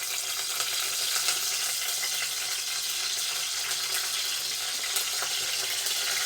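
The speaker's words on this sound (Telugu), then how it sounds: "ఇంకా నూనె వేసాను, పచ్చిమిరకాయలు వేసాను, కరివేపాకు వేసాను" Green chillies and curry leaves fry in oil with a loud, dense, continuous sizzle and crackle up close, steady throughout with small pops and no talk.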